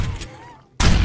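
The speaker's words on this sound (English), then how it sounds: "All I heard was his shotgun." A shotgun blast goes off in a video game, one sudden loud boom cutting in after a near-silent pause, following quieter game ambience.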